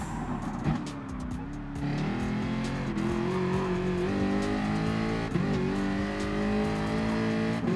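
Loud race car in Gran Turismo Sport on PS4: a raw, high-revving engine holds steady tones, then climbs and drops through gear changes, close and continuous, with no talking over it.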